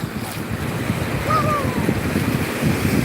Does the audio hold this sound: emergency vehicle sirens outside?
no